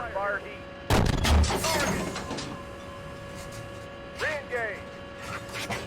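Tank cannon shots and gunfire in the armored combat simulator Steel Beasts Pro PE: a sharp, loud cannon blast followed by a rumbling decay, then a fainter distant shot later, with radio-style voices and whistling tones throughout.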